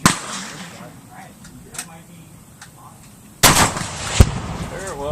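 A rifle shot strikes a Tannerite target 200 yards off, sending out one sharp, loud blast with a hard onset and a brief echoing tail, followed by a second crack a moment later. Faint outdoor voices and background noise come before it.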